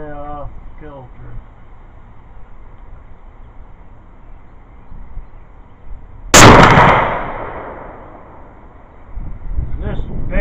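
A single loud rifle shot fired through a Savage rifle fitted with a Boyd gun stock cracks out outdoors in wind, its blast decaying over a couple of seconds, with a voice speaking briefly before and after.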